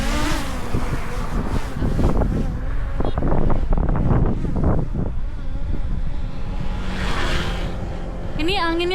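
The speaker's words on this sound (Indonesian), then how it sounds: "Ini anginnya kenceng banget ya." Strong wind buffeting the microphone during a motorcycle ride, a loud continuous rushing roar with low flapping gusts and road noise, with a voice talking briefly partway through.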